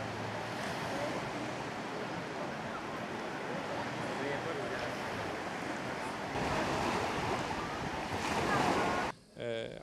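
Sea waves along the Dilek Peninsula coast in Aydın, a steady rushing surf with wind noise, swelling louder near the end before a sudden drop and a brief clatter.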